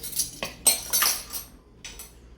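A small coffee spoon clinking against a bowl while low-carb bread dough is mixed, several quick scraping taps in a row with a short pause before two final clinks.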